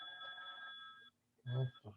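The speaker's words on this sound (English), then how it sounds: "my phone is just ringing." A phone rings with a brief electronic tone, faint and indoors, cutting off before a voice speaks.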